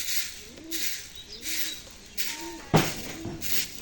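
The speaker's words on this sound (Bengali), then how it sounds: "দেখছেন কত সুন্দর ডাকতেছে ডিম পারবে দেখে" A bird gives repeated soft, low cooing calls at close range, several rising and falling phrases with a sharp knock partway through, alone without talk.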